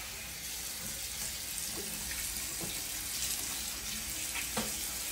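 A bathroom tap runs steadily for rinsing the mouth, a close hissing stream of water with a few faint clinks and splashes, no voices.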